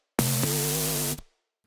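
A loud, buzzing distorted synth note holds steady for about a second, gritty and harmonically rich, then cuts off abruptly.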